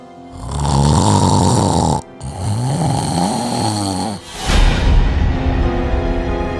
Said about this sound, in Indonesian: Sebab dia tidur, dengkuran dia memang terlalu kuat.